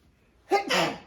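A single short, close sneeze bursts out from a patient during a foot-soaking care session, sharp at the onset and then trailing off quickly.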